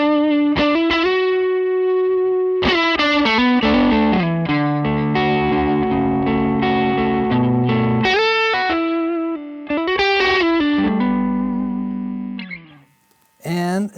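Electric guitar through a Throne of Tone dual-sided overdrive pedal on the drive OD setting, with extra clipping and compression, plays loud sustained chords and notes with a few brief breaks, then trails off near the end.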